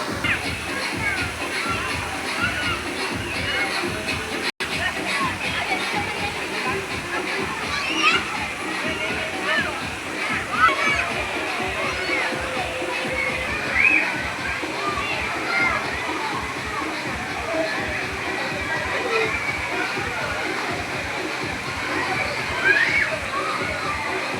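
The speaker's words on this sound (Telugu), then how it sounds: "అక్కడ పైనుంచి వాటర్ పడతాయి, చాలా బాగుంటుంది" Water splashes and pours down steadily at an outdoor water play area, with children shouting and playing and adults talking over the continuous rush.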